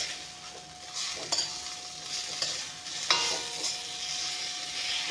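Fish head frying in oil with panch phoron spices, a steady close sizzle broken by a few sharp scrapes and stirs of a utensil in the pan.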